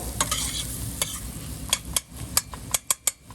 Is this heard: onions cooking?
yes